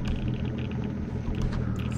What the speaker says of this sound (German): Und den Motor an, bevor wir wieder aus dem Gebiet rausrollen.